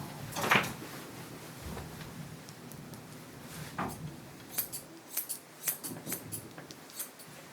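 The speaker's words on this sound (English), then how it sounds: "trimming the tail" Scissors trimming a Havanese puppy's tail during grooming: a sharp snip near the start, then a run of close, quick, crisp snips toward the end, with no talking.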